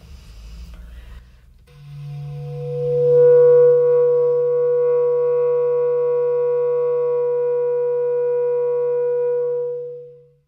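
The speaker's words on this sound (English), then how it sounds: "This is one of my favorite multiphonics." A bass clarinet multiphonic used in improvisation, a short breathy attack settling into one steady sustained chord of several stable tones held for about eight seconds, played alone and then fading out.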